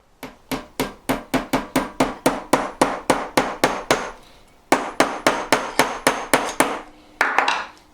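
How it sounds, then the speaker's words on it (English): Loud, sharp hammer blows repeat at a steady quick rhythm, a long run of strikes, a short pause, then another run, driving a part tightly into a hole while making wizzer toys, close up with no talking. "And I literally hammer it in."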